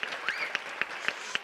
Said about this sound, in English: Let's hear a big round of applause again for Songs for Kids.